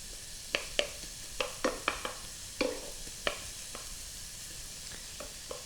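Lots of garlic sizzles in a pan of hot oil for Hungarian stuffed peppers, a steady close hiss broken by repeated sharp clicks and scrapes of stirring.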